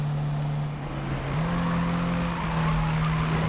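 A car drifting through turns in the 2015 Need for Speed racing game, with a steady engine drone and sustained tire squeal sliding in pitch across several seconds, loud and continuous with no talk.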